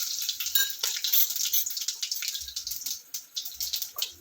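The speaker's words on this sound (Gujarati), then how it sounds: "એક ચમચી હું રાય ઉમેરી દઈશ એમાં આપણી રાઈ ફૂટે છે તો હું એમાં લીમડો ઉમેરી દઈશ" Mustard seeds crackle and splutter in hot oil with curry leaves, a continuous, busy popping sizzle with rapid irregular bursts, close and fairly loud, with no talking.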